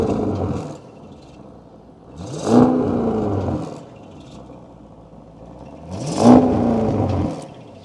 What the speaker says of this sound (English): And then we have the optional sport exhaust.